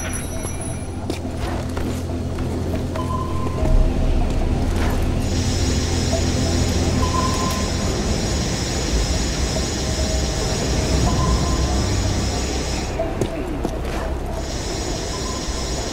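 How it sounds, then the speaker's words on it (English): A military transport train in the Tomb Raider video game rolls past a lab with a steady, loud mechanical rumble and rattling wagons, a metallic ratcheting and squealing over the top, continuous throughout with no talk. "There's a military transport train that runs past the lab."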